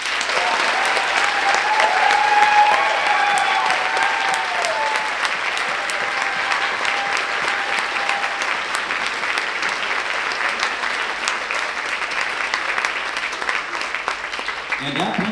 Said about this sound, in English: Can I have a big round of applause for these students on stage?